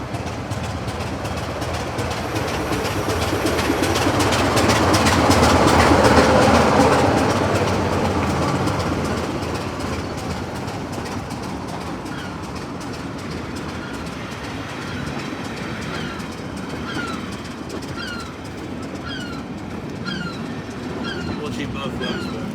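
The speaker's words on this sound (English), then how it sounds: "here is my next train arriving into the station, which is 25185" Class 25 diesel locomotive 25185 rolls into a West Somerset Railway station during a summer diesel festival, its engine swelling loud then easing as wheels clatter steadily over rail joints, with birdsong and faint voices in the background.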